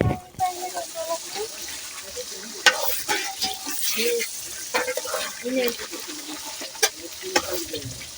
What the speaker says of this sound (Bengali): আলুটা ব্যবহার করার পর আবার 2 মিনিট কষিয়ে নিতে হবে, তবে সামান্য একটু জল দিয়ে কষিয়ে নিতে হবে